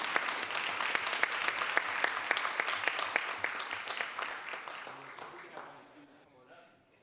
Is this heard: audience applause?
yes